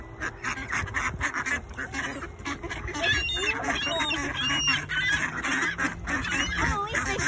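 A dense flock of ducks quacks and honks over itself, loud and close, a constant overlapping clamor of calls with no break throughout.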